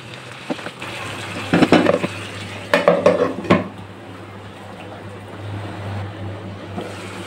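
Spices being stirred and fried down in oil in a pan for a potato and chicken wings curry, with a few clustered metallic scrapes of a spoon against the pan over a steady low hum.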